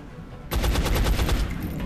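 Rifle fire in XCOM: Enemy Unknown from a colonel's rifle, starting abruptly after a quiet half second as a loud burst of rapid repeated shots that sustains to the end, no talk.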